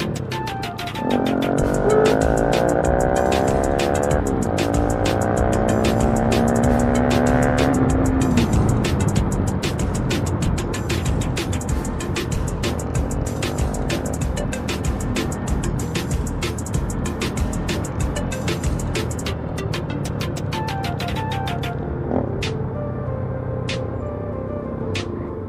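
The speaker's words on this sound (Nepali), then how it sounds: "यो बाइकको इन्जिन बनायो क्या त्यही भएर पिकअप चाहिँ अति बोकल छ क्या" A Bajaj Pulsar NS200 motorcycle engine drones while riding, revving up and shifting early then holding a steady rough hum with wind buffeting, loud and close throughout.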